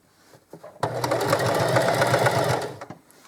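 A sewing machine double stitching a reversible apron runs in one sustained burst of rapid, rhythmic needle chatter, close up, with a few soft handling clicks before and after.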